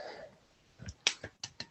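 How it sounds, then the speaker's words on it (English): A single person claps a few times, sharp close slaps spaced irregularly after a brief moment of faint sound. "I think my one-man clap is probably the biggest clap I've ever had in my career."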